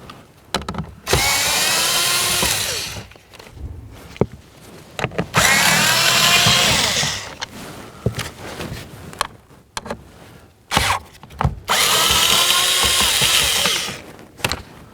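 A power tool drives out the three blower motor mounting bolts on a 2007-or-later Toyota Tundra. It comes as three loud, close bursts of whirring, each about two to three seconds long, with quieter fiddling and pauses between them and no talk.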